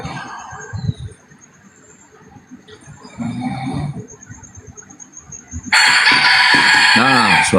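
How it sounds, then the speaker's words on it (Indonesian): Chickens cluck and squawk nearby, then a loud rooster crows, its call rising and falling over the background clucking. "Nah, suara ayam."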